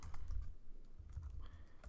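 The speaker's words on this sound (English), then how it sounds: "sorry, my typing is bad." Typing on a computer keyboard while coding a Java program, a quick run of soft key clicks over a low hum, close and fairly quiet, with no one talking.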